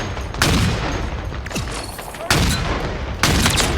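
A sniper rifle is fired without scoping in the video game Halo Infinite: three loud, sharp close shots, each followed by a ringing tail, spaced a second or two apart.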